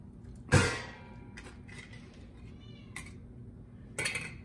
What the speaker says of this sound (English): save a little bit for the cat that is screaming in the background